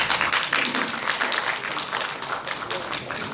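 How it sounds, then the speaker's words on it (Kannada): Women in a crowd at a film trailer launch event clap together, dense sustained applause close and loud for the whole stretch, with some talk mixed in. "ಬರೀ ಹೆಣ್ಮಕ್ಳು ಅಷ್ಟೇ ಚಪ್ಪಾಳೆ ತಟ್ರಿ"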